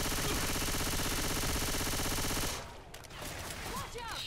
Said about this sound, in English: You are shooting me so many times.